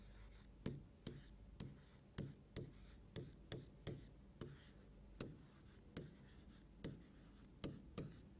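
Teacher writing a sentence on a board in an English class, a steady series of about fifteen sharp taps and strokes roughly twice a second, close and clear with no talking.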